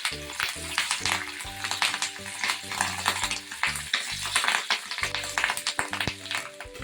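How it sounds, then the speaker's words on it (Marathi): Fish roe (gaboli) frying in hot oil in a pan: a loud, close, crackling sizzle with popping spatters, plus occasional clinks of a spatula and pan lid, with no talk over it. "आता यामध्ये मी गाबोळी तळून घेते"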